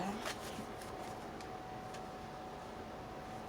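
A deck of cards being shuffled, producing soft rapid riffling and flicking at close range, quiet and continuous, with faint speech alongside.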